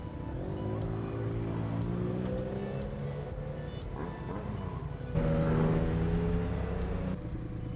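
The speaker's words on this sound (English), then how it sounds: "He loves the sound of that bike." A BMW cafe racer motorcycle's exhaust rumbles steadily up close with a deep, throaty tone, then swells louder as the engine is revved, with no clear talk over it.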